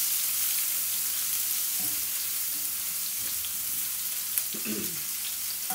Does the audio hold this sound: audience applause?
no